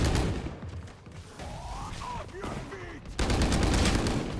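Bulldog rifle fire in the Valorant video game comes in bursts of rapid shots with a pause in the middle, then sustained dense gunfire over an esports tournament broadcast, with a commentator talking throughout.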